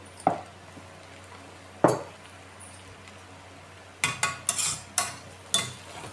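Salted bitter gourd sabzi stirred in a pan: a spatula scrapes and knocks against the metal in sharp, irregular strokes, two isolated ones and then a quicker burst of several, close and fairly loud with no talk.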